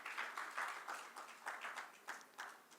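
An audience at a Hindi poetry event claps to welcome poet Atul Sharma onto the stage, a soft, fairly faint patter of applause that comes in small bursts.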